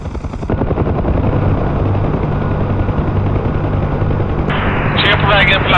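A military helicopter comes in to land, its loud rotor chop and engine roar steady and close throughout, with a harsh higher whine rising near the end and voices talking underneath.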